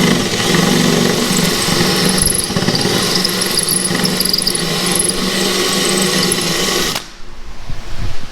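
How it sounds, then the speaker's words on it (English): Drill boring out spot welds on a Jeep Cherokee frame: a loud, continuous close-up whine with metallic squeal for about seven seconds, then it stops abruptly. "Drilling out all the spot rivets."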